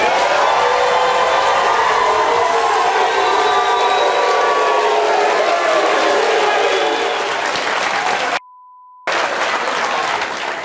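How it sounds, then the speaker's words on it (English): Loud, sustained applause and cheering from a television talk-show studio audience, dense and steady throughout, broken by a short tone beep near the end before the clapping resumes. "Now, you hear the audience applauding for you."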